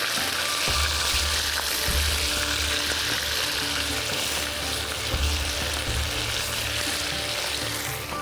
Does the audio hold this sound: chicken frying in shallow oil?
yes